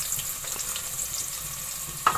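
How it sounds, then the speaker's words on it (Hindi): Sliced onions frying in hot oil for a dhaba-style mutton liver masala curry, a steady close sizzle with faint stirring scrapes and a sharper clink near the end, no talk. "अब प्याज को मैं ब्राउन कर लूंगी।"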